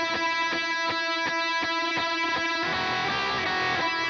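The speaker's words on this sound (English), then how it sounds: "And the lead guitar sounds like this." An electric guitar plays a lead line over a steady beat, sustained notes ringing out with a slightly driven tone, loud and close with no talking.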